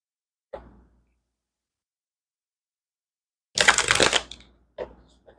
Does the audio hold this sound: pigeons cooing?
no